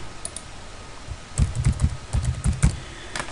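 Typing on a computer keyboard while entering personal details into a Mailchimp list form, a brief quiet pause and then a dense run of close key clicks, with no talking.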